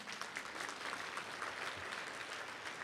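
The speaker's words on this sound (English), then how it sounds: "Round of applause again." Dense applause from an audience at a university organizational excellence event, continuous and even throughout at moderate loudness.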